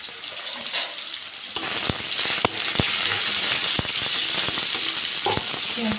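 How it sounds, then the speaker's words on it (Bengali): Onion and a green chili dropped into hot white oil, hissing into a loud, constant sizzle close by, with a few sharp crackles and pops scattered through. "তেলটা গরম হয়ে গেছে আমি পেঁয়াজ দিয়ে দেবো একটা কাঁচা লঙ্কা দিয়ে দেবো"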